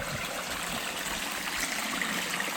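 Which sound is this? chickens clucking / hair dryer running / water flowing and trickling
water flowing and trickling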